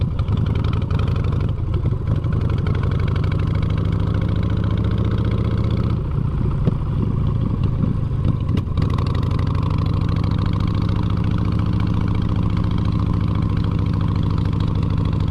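A motorcycle engine idles steadily up close for the whole stretch, a continuous mid-pitched rumble with a brief dip in level around the middle and no talking over it.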